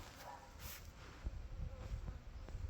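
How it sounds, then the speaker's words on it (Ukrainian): A swarm of honeybees during the hiving of a swarm, a faint buzzing hum with a few louder passes of bees flying near, low and brief. "бджоли"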